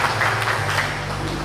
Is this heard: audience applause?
yes